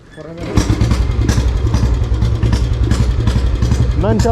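A motorcycle engine starts and settles into a steady, loud idle close by before a ride through Kerala, with someone talking over the running engine.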